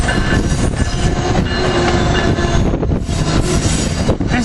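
Amtrak ACS-64 electric locomotive number 665 pulls into a station at the head of a Keystone train, a loud, steady rumble of rolling stock with a few wheel squeals and rail clicks, close by and without talk.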